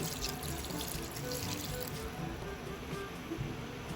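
Water runs and splashes steadily into a cooking pot of dinuguan, a continuous close trickling pour with no talking.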